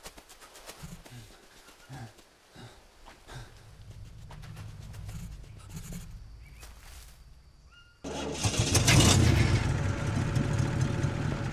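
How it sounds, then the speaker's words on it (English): A generator running in the Green Hell survival game, a low steady engine drone that builds gradually and then jumps to a louder, rougher rumble for the final few seconds. "Now that the generator is running, we can take the elevator down."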